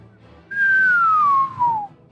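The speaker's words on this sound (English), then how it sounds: "that's the best whistle I can try to do" A person whistles a single long, clear tone that glides slowly downward in pitch, followed by a brief trailing note, loud and close against a quiet room.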